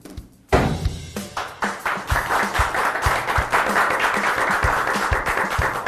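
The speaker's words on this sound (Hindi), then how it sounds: "ताली क्या बजा रहा है?" A crowd breaks into sudden applause, many hands clapping loudly and continuously after a brief quiet start, with sharp individual claps standing out in the dense indoor roar.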